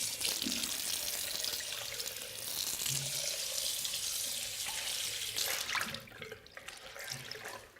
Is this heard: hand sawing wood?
no